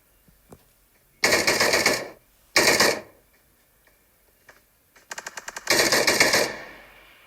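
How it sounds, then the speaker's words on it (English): Automatic gunfire in the battle royale game PUBG comes in three loud, rapid bursts separated by short quiet gaps, with the last burst the longest and a few scattered shots before it. "Johnny's now firing towards Blackie, but Blackie manages to retreat just in time."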